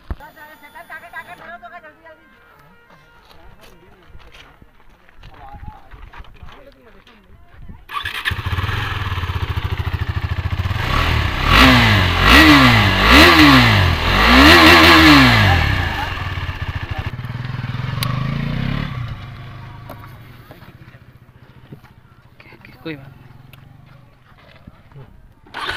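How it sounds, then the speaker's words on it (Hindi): KTM RC 390 motorcycle engines, old and new models, rev up loudly in repeated throttle blips, rising and falling, after quieter idling and talk; voices speak before and after the revving. "अभी दोनों का रेव करके दिखाते हैं।"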